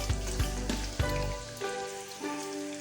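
Onion and gooseberry pieces fry in oil for a homemade hair oil, a crackling sizzle broken by a few sharp clunks and scrapes from stirring in the pan, fairly close.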